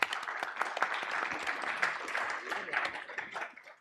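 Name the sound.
audience applause for a panel speaker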